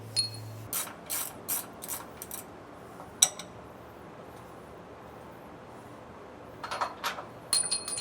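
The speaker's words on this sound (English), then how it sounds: "I am using a 21mm socket to get these bolts out." Short bursts of ratchet clicking with a 21mm socket as bolts are backed out on a 2018 Ford F-53 chassis, a few close strokes at the start and again near the end, with a sharp metallic clink in between.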